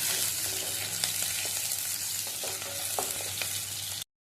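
A tempering of chana dal, mustard seeds, cumin, onion and green chilli frying in oil, a continuous close sizzle broken by occasional stirring scrapes, with no voices.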